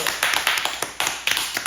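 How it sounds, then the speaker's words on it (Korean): Brief hand clapping from a few people in a small shop, crisp close claps in short uneven bursts, heard alone with no talking. "아, 박수."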